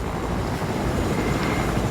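Helicopter in the Fortnite video game, a continuous airborne rotor drone with a dense, steady rumble and no pauses across the short stretch.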